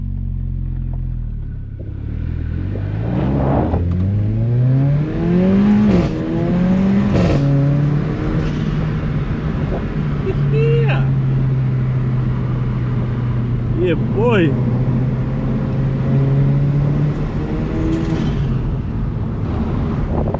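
An AMG sports car engine drones and revs with rising and falling pitch, a prominent intake induction whoosh over it; someone briefly speaks.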